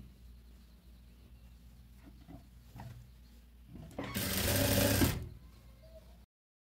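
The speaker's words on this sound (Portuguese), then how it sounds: "Eu vou passar uma costura para segurar esse elástico." A sewing machine stitches elastic onto fabric for a blouse and shorts set, running in a single loud, close whirring burst of about a second after quiet handling noises, then falling silent.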